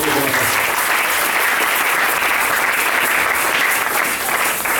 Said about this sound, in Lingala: Tu peux acclamer très fort le Seigneur.